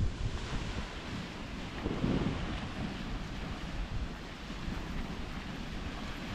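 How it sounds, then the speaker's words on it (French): Waves and wind at Shell Beach, Western Australia, a beach made entirely of shells: a constant broad roar of surf with wind buffeting the microphone, steady and loud, with no voices. "Et voici Shell Beach. C'est l'une des rares plages au monde composée entièrement de coquillages."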